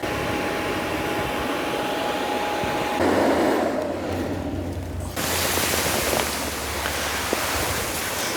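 A blower fan pushes air into a giant inflatable Christmas polar bear, a steady rushing whoosh of moderate loudness that dips briefly midway and then resumes, with no speech.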